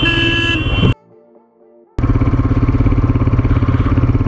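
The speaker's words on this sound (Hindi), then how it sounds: "जानबूझ के रेस खोली उसने।" Motorcycle engine revved hard on purpose on a high mountain road near Leh towards Khardung La, a loud rising roar that cuts out briefly to a quiet pause before a steady pulsing rev resumes close by.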